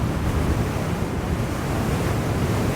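Wind buffets the microphone of an Extreme Bull GT Pro Plus electric unicycle riding along a straight path, a continuous loud, low rumbling roar with no voices.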